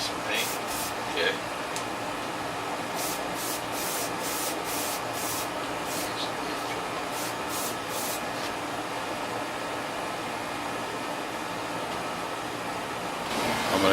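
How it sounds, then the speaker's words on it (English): Spray paint hisses onto a black model piece in repeated short bursts, about a dozen quick sprays with gaps between them, close and fairly soft over a faint background hum. "Spray on that black piece."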